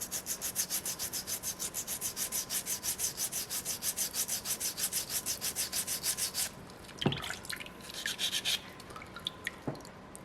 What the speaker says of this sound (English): We can actually just use our folded sandpaper, just like that V, match that right up.